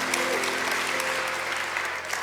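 Congregation applauding during an online church service, a dense, even wash of many hands clapping that stays steady throughout, with a faint tonal hum underneath and no talk.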